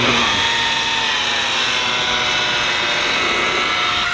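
A rotary polisher runs at about 1,000 RPM, buffing compound onto a boat hull with light pressure: a steady, close whine with even loudness from start to finish.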